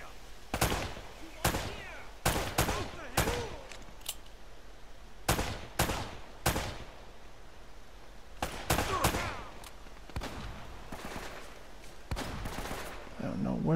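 Repeated bursts of gunfire in the Uncharted: Drake's Fortune video game, sharp loud shots in irregular clusters with brief gaps, over a low background rumble.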